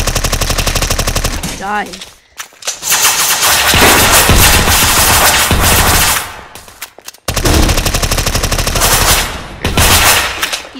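Loud, sustained automatic machine gun fire in a Roblox SCP roleplay game, long continuous bursts broken by short pauses, with a brief shouted voice in between.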